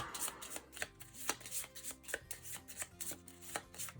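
A deck of cards for the Direwild board game is shuffled close up, with quick, rhythmic riffling and snapping bursts repeating steadily and no talking.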